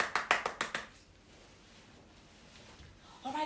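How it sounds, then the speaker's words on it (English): About six quick hand claps ring out close by in a brief burst, then fade to quiet room tone before a voice starts speaking. "Let's give a round of applause"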